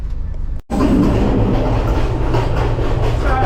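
A passenger train running at night on the Kandy to Nanu Oya line in Sri Lanka, heard from inside a noisy carriage: a loud, steady rumble with rattling wheel noise, briefly cut near the start, then continuing close and unbroken.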